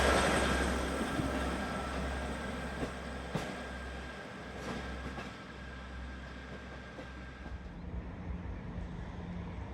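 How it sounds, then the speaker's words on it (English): A passenger train departing a station on the Far North Line toward Georgemas and Wick rumbles steadily nearby with a low engine drone and squeals and clanks from the wheels, the sound slowly easing as it pulls away. "it'll now go back to Georgemas and on to its final destination at Wick"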